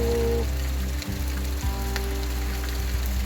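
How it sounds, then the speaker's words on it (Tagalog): Heavy rain pours down in a steady, dense hiss with scattered drip taps, over a constant low hum. "lumakas naman ang ulan hanggang ngayon"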